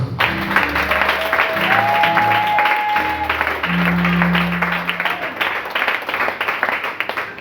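A church congregation at a worship service claps in a steady, even rhythm alongside sustained keyboard chords, the clapping loud and close and continuing throughout with no clear speech.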